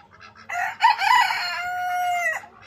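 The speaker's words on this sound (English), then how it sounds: "Cock-a-doodle-doo." A rooster in rural Bulgaria crows once, close and loud, in a drawn-out cock-a-doodle-doo that rises and holds before cutting off, with faint background noise.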